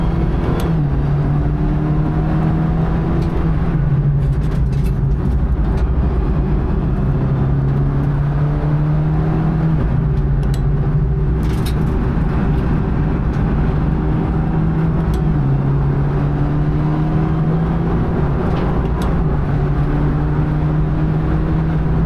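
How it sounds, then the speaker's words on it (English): A BMW G42 racecar driving hard around the Nürburgring Nordschleife, its engine droning loudly and continuously from inside the cabin, with pitch climbing and dropping through gear changes and corners. "I've turned traction control on and the car is pulling G-forces"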